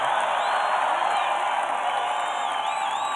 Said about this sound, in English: This is a hell of a crowd.